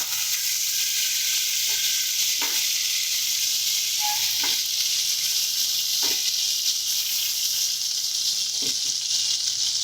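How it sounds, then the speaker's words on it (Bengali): Prawns fry in hot oil with a constant bright sizzle, punctuated by a few soft clicks and stirring knocks from the pan, close and steady with no talking. "এবারে বাকি যে মাছগুলো আছে সেগুলোকে দিয়ে ভেজে নেব।"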